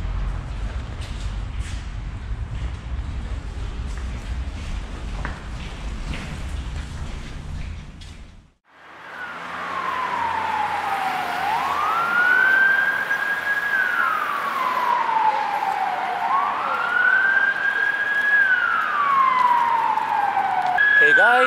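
Emergency vehicle sirens wail in a city at night, a steady rising and falling tone sweeping repeatedly over traffic rumble after a stretch of street noise.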